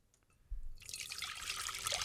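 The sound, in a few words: pouring Twinings Lady Jane tea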